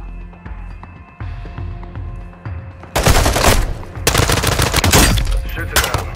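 Gunfire during a camouflage sniping mission in Call of Duty: a quiet hum gives way to loud, close bursts of rapid shots, dense volleys with brief gaps and a sharp crack at the very end.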